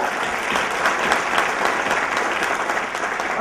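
Sustained applause from an audience in a hall, a dense, even roar of many hands clapping at steady loudness with no voices over it.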